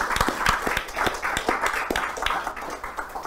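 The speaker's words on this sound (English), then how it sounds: "Let's have a big round of applause for Hyper RPG." An audience at a comics publisher's summit gives a short burst of applause for a tabletop role-playing crew, with distinct, fairly close claps that ring out irregularly and taper off near the end.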